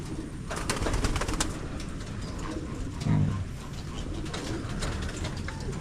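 Homing pigeons coo in a pigeon loft, their low throaty burbles rising now and then over a busy background of wing flutters and rustling, with one louder coo near the middle.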